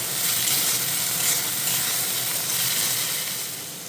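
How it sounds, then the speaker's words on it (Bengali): Spice masala for a jackfruit curry fries in oil with a loud, continuous, close-up sizzle and hiss, an unbroken bright crackle that holds steady, then eases slightly at the end. "যতক্ষণ না তেল ছেড়ে দিয়েছে ততক্ষণ আমি মশলাটা কষাবো"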